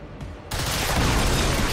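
Gunfire in the modded video game XCOM 2: War of the Chosen erupts as a loud, dense burst of shots that starts abruptly after a brief quiet moment and carries on steadily to the end.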